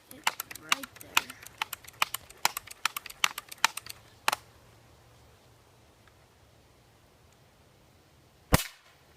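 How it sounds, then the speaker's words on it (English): Avalanche 40-pound crossbow pistol shot at a bird outdoors, giving one sharp, loud snap near the four-second mark after a run of small clicks and taps, then a second loud burst near the end. "Avalanche 40-pound crossbow pistol"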